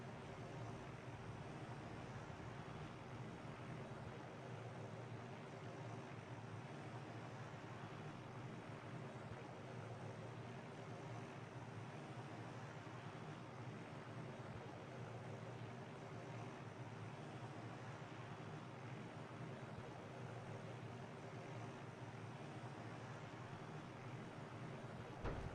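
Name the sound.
helicopter flying in ArmA 3 video game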